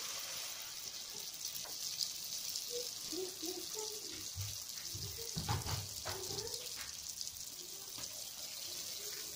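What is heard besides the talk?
snacks frying in hot oil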